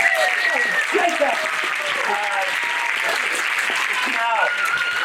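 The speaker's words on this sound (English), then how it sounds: "How about a big round of applause?" An audience at a magic show in a town hall theatre claps steadily while people talk and call out over it.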